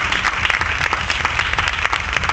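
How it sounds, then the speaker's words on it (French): A French stage audience applauds an Elvis Presley lookalike, dense and fairly loud clapping that keeps up evenly throughout without a break. "applaudissements pour monsieur Elvis Presley en musique"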